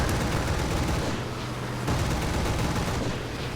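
Dense, continuous cannon and machine-gun fire from a Bf 109 E-4 fighter plane in the War Thunder combat game rattles loudly and without pause over a low engine drone.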